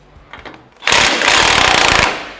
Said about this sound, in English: we're going to remove the nut from the bottom of the end link so we can get that out of the way